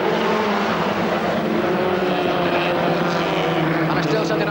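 Production race cars roar past side by side on the start-finish straight at Shamrock Park, Portadown, a loud, continuous engine drone with a commentator talking over it.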